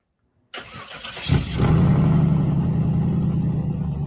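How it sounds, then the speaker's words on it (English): Cadillac Eldorado front-wheel-drive luxury coupe from the 1990s fitted with two Northstar V8 engines, one under the hood and one in the trunk, cranking and catching, then settling into a loud, steady rumbling idle close by. "front-wheel drive luxury coupe from the 90s with not one, but two North Star V8 engines"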